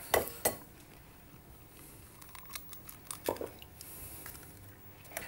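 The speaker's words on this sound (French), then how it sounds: "Je vais mélanger avec amour, regardez mes pâtes." Eggs and pasta mixed in a bowl for a pasta quiche, with quiet clinks and taps of a utensil against the bowl, scattered irregularly and close by, plus faint soft scraping between them and no voices.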